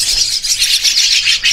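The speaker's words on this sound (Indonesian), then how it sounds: "Total ada 20 ekor untuk anakan burung jalak kebonya bos ya." Javan myna (jalak kebo) chicks chirping together in a continuous, busy chorus of high, overlapping calls, close and fairly loud with no talk.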